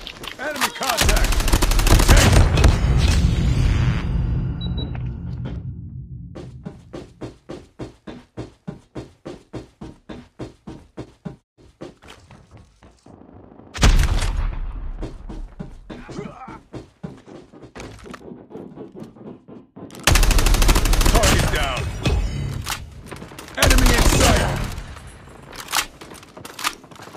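Automatic gunfire in Call of Duty rattles in rapid, evenly spaced bursts between louder explosive blasts, close and loud, with heavy sustained shooting at the start and end.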